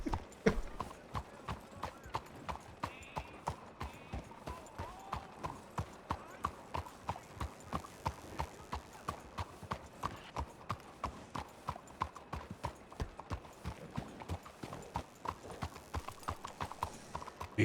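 Horse hooves clip-clop in a steady, even rhythm as riders move off, each hoofbeat a sharp knock repeating throughout, with a faint whinny early on and no talking.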